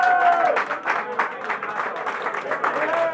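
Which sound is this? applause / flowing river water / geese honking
applause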